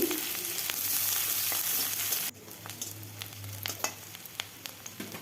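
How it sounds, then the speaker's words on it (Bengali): Onion tempering with whole cumin and green chilies frying in oil, a dense loud sizzle that drops suddenly to a quieter crackling fry with scattered pops, close up and without speech. "পেঁয়াজ ফোড়নটা ভালোভাবে আমি ভেজে নেব"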